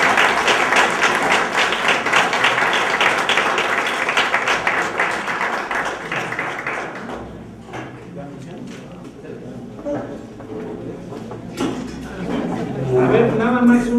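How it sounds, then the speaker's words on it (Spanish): Audience applause after a philosophy lecture on popular religion in Mexico City, a dense burst of clapping for about seven seconds that thins out into scattered taps and room noise while someone speaks. "Pues un aplauso nuevamente."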